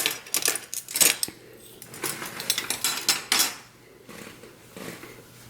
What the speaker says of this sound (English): We'll grab the silverware.